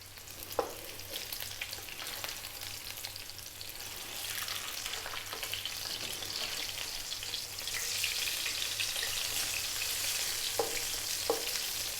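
Sea bass fillets frying in a pan, giving a continuous hiss and crackle that grows fuller partway through, with a few sharp pops and spits, close and steady with no speech.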